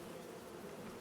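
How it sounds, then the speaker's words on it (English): Bees buzz around beehives in the farming video game Farming Simulator 25, a steady, dense insect drone that holds at an even level throughout, with no voices over it. "Just full of beehives"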